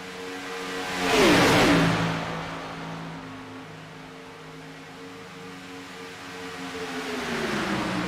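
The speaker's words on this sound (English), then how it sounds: "Now another lap car on the speedway." A race car laps Daytona International Speedway during the ITRL Firecracker 200, its engine sweeping loudly past with a whoosh. A steady, droning engine tone follows and swells again at the end.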